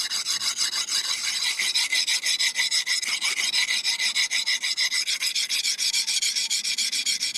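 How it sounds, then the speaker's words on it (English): A knife blade drawn back and forth in a sawing motion across a sharpening stone, a steady rhythmic rasping scrape of even strokes, close and continuous with no voices. "when I start sharpening, I'm not worried about every little stroke"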